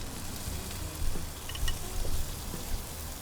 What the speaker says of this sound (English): Hopefully you can hear that sizzle.